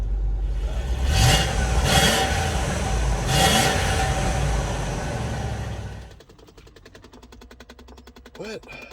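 A 2006 Range Rover L322 engine running just after starting, a loud steady rumble with people talking and exclaiming over it, then dropping to a quieter, even idle with a faint chirp near the end.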